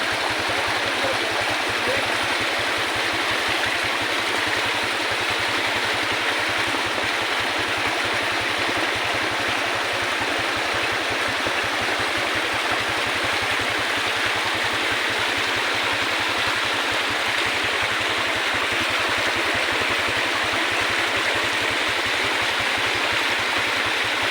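Floodwater rushing down from a mountain during heavy rain, a loud, continuous roaring torrent with a low pulsing rumble underneath, steady throughout with no voices.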